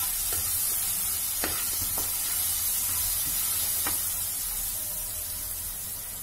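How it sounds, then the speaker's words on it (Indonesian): Ground spice paste sautés in a little oil with a constant soft sizzle and hiss, broken by occasional light scrapes and taps of a stirring utensil, close and moderately quiet, no talk. "Nah ini aku tumis bumbu ulegnya tadi ya, pakai sedikit minyak sampai dia harum."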